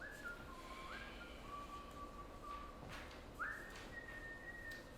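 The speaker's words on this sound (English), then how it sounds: "He whistles along." Someone whistles a simple melody, clear pure notes gliding between pitches, fairly quiet and alone without talk.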